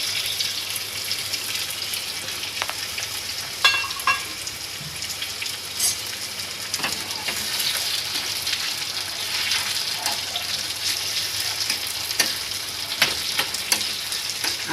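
Onions and chillies sautéing in a pan, a steady close sizzle with scattered pops and occasional scraping stirs, continuous and even throughout with no voices.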